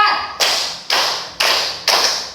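A class claps in unison four times at an even counted beat, each sharp clap ringing briefly before the next, close and loud with no talk.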